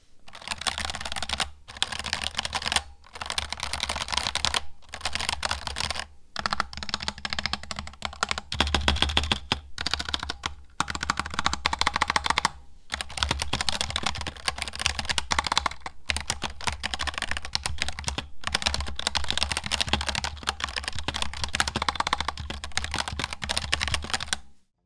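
Continuous clacky typing on a Razer Huntsman V3 Pro gaming keyboard, rapid loud keystrokes with brief pauses, close up and without talk.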